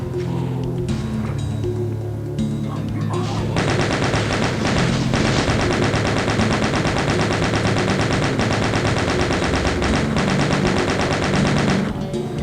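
Rapid sustained gunfire in Doom, played on the map The Nectar Flow, bursts loud and close in a dense, continuous stream of shots after a quieter lead-in, with no talk over it.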